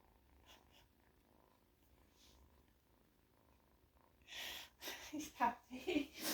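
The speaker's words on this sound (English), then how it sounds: "He's purring though, you can hear him." A kitten purrs quietly at first, then louder and closer toward the end, a soft rhythmic rumble under a person talking.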